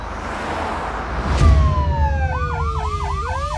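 Police patrol car sirens wail close by, their pitch sweeping down and then looping into a rapid yelp over a low engine rumble and street noise, in a Mexican crime drama scene.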